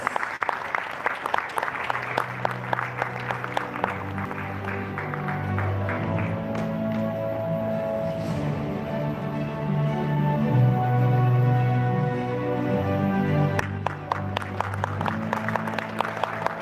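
Gala audience at a travel awards ceremony gives a round of applause, scattered clapping heard over steady sustained music, fading in and out around a loud band or backing track.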